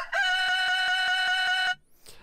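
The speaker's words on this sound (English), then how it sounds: "So if I play back the looped rooster sound" A looped rooster crowing sample plays in Reason's NNXT sampler, a bright, sustained crow with a regular pulsing repeat. It cuts off cleanly after about a second and a half, leaving near silence.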